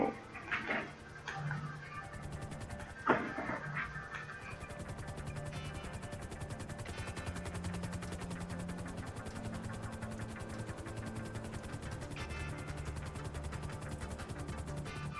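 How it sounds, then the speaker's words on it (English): A Swift helicopter in GTA Online gives a steady, rapid tick-tock rotor chatter that runs continuously at even loudness, with a few brief louder thumps near the start. "I love this noise though."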